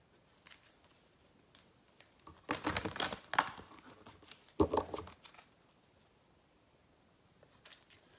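Two short bursts of papery riffling and flicking as tarot cards are shuffled, close by and fairly quiet, separated by a pause, with faint rustling before and after.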